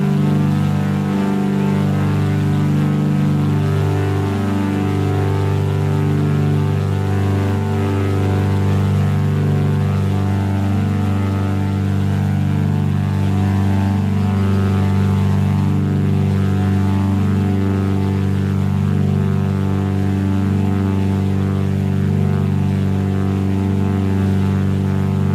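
Cessna Skymaster twin piston engines droning in steady flight in Flight Simulator X, a continuous loud hum with strong layered harmonics and no talk over it.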